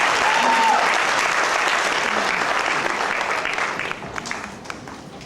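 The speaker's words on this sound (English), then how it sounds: "So I think one round of applause." An audience at a Mahavir Jayanti community gathering gives a round of applause, a dense, continuous clatter of hands that gradually tapers off over several seconds.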